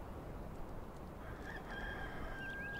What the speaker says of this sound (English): I heard the rooster.